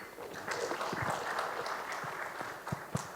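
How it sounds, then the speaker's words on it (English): Audience applause after a panel host's introduction at a business talk event, a steady wash of many hands clapping at moderate volume, with a few sharper claps standing out near the end. "A round of applause, ladies and gentlemen."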